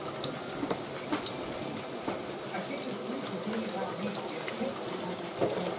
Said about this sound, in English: Slowly allow water to flow over the pressure cooker.